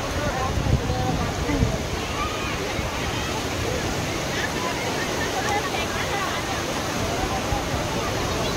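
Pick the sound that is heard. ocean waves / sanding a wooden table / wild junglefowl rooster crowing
ocean waves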